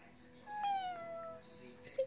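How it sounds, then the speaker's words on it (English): A cat gives one drawn-out, falling meow indoors in a quiet room, followed by a short, faint second mew at the end. "Is it a kitty?"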